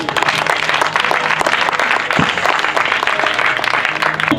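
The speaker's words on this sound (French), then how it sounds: "nous pouvons applaudir le Seigneur" A church congregation at an evangelism campaign in Dolisie applauds, a thick, sustained clapping from many people filling the space, with a faint voice or two underneath.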